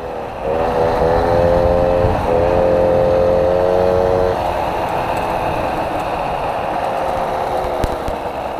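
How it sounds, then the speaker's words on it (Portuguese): Caloi moped with a small 3 hp engine buzzing while being ridden, a close, loud nasal whine that rises and holds, then drops back to a steadier drone over wind and road rumble. "vamos dar uma volta hoje de mobilete"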